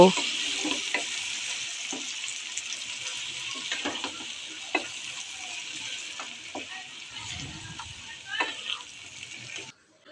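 Chicken biryani with milk powder is stirred in a pan, with a soft steady sizzle under scattered scraping and clinking strokes of the spoon, fairly quiet and close.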